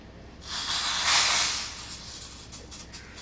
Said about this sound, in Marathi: आता आपण फोडणी देऊया